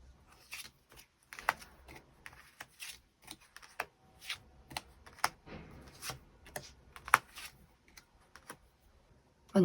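Tarot cards are shuffled and handled up close, a quiet run of irregular crisp clicks, flicks and soft slaps with brief pauses between, no talk.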